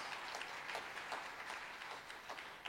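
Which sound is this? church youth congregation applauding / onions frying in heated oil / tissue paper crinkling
church youth congregation applauding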